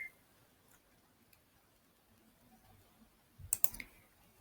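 A computer mouse gives a quick pair of sharp, close clicks near the end of an otherwise quiet stretch with faint room noise.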